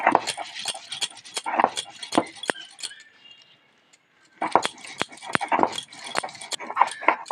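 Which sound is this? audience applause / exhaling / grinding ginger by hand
grinding ginger by hand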